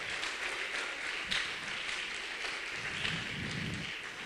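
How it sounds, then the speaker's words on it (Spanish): A church congregation claps together in a steady, sustained round of applause that holds evenly throughout, with no voices rising above it. "denle un aplauso al Señor"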